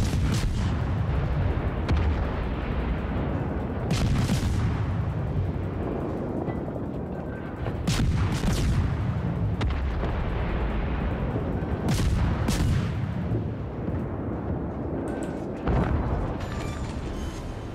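Repeated heavy gunfire and booming blasts burst out every few seconds over a dense, rumbling battle din, loud and close.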